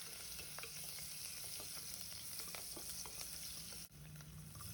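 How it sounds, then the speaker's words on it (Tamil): Urad dal and crushed garlic cloves sauté in hot oil in a pan for agathi keerai kuzhambu, a steady close sizzle and crackle with occasional stirring scrapes throughout. "இப்போ இது கூட நம்ம இடித்து வச்ச எட்டு பூண்டு பல் சேர்த்துக்கலாம் இப்போ இதை நம்ம நல்லா வதக்கலாம்"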